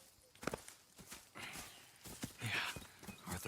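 Horses in Red Dead Redemption 2 clip-clop along with uneven hoofbeats, moderately close, mixed under quiet talking voices.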